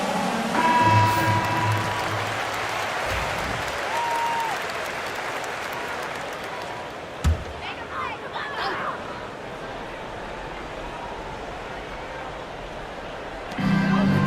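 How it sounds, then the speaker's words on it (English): A basketball arena crowd at an Orlando versus Philadelphia game applauds in a broad, sustained wash of clapping that gradually thins, with murmuring voices and a short swell of noise near the end. "Nice round of applause"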